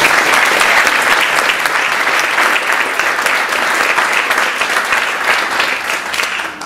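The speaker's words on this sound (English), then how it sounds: "Let's give all these athletes a round of applause" A crowd applauds loudly and continuously for athletes at a school senior sports event, dense clapping that holds steady before tapering slightly at the end.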